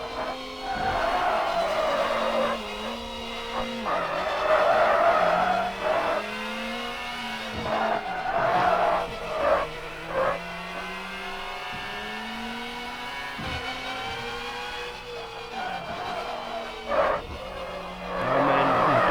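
Race car braking hard into a deceptive left corner, engine revving and dropping through downshifts with brief tyre squeal, then accelerating out, loud and close throughout with no speech.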